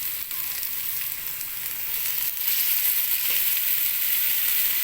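Tuna belly frying in a pan of sautéed miso, giving an even, hissing sizzle that swells slightly partway through, close and alone.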